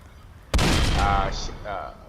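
In the Roblox game Dead Rails, a gunshot cracks out suddenly and loudly. It is followed by a short burst of rattling noise and some faint tonal game sounds, with players talking around it.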